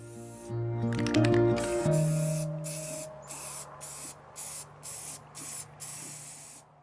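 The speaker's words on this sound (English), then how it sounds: "I also sprayed the inside top part of the can because you would be able to see it, and I wanted it to look green." Spray paint hissing onto a watering can, a few short sprays after some mechanical rattling, then a run of evenly spaced close bursts with brief gaps between them.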